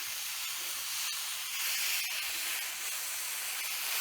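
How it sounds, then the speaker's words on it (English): Steam iron hissing steadily as it pushes steam into a dent in wood furniture, a continuous close, broadband hiss with a faint crackle like eggs frying, sustained throughout without speech. "you can hear that it's not producing as much steam"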